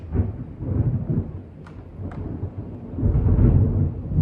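Thunder rumbles during a late-summer thunderstorm over a home garden, rolling low and heavy in swelling waves that fade and then build again toward the end, with no voices.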